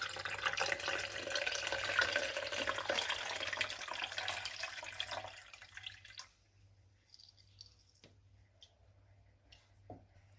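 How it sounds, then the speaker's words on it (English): Liquid tomato fertilizer poured through a fine mesh sieve gives a steady trickling hiss for about six seconds, then fades to sparse faint drips. "strain the liquid through a fine mesh sieve to remove any solid particles"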